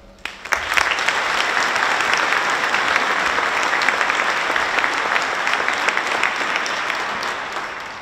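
Sustained crowd applause for a school orchestra at a jubilee memorial concert, loud and steady claps from a large audience filling the hall for several seconds without talk.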